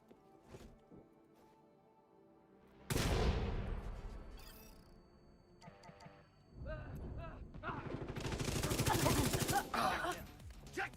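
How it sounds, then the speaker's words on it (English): Gunfire in a shooter video game erupts in a sudden heavy burst, followed by scattered rattling shots and a sustained loud barrage, with quiet gaps between and players talking faintly. "I'm gonna shoot the one on the right, and then shoot on the one in the back."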